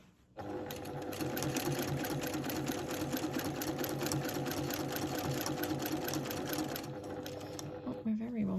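Sewing machine free-motion quilting with a Westalee ruler, running in a long continuous burst of fast, even stitching clatter, close and steady before stopping, with a voice talking near the end.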